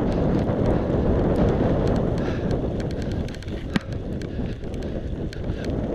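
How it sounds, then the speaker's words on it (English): Strong wind roars and buffets the microphone during a bumpy bike ride along the Leek branch canal in Staffordshire, a steady low rumble with faint rattles and one sharp knock. "So I'm getting used to going in this wind straight in my face."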